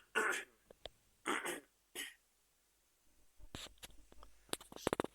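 A person coughs and clears their throat in several short, harsh bursts close to the microphone, followed by quieter clicks and shuffling.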